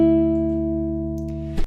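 Fingerstyle acoustic guitar playing a bar of the Harry Potter theme, with a sustained ringing note that slowly fades, faint plucks over it, and a quick scratchy strum near the end, close and unaccompanied by talk.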